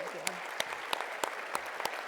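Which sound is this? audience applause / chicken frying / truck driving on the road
audience applause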